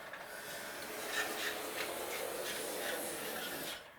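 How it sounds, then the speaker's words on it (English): A hand plane shaves smooth slices from a balsa wood wing trailing edge, giving soft, raspy strokes in a steady rhythm at close range. "run the plane down and take off nice smooth slices"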